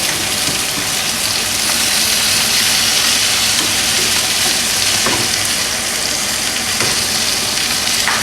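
A prime ribeye cap sizzles steadily in herby oil with thyme and rosemary, a loud, continuous hissing fry with faint spattering pops and no voices.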